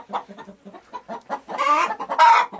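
A black rooster clucks in a series of short, close calls that build into louder, drawn-out squawks toward the end.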